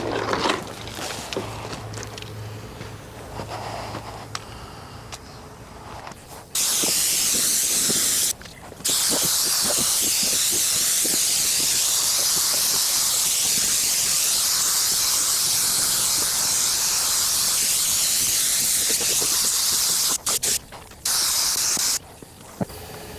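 A spray gun lays a tack coat of paint on a 1992 GMC 3500 dually, a loud steady close hiss running in long bursts with brief pauses between passes, no talk.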